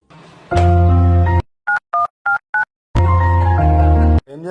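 Four quick telephone keypad tones beep in a steady row, clear and close, set between longer, louder sustained tones.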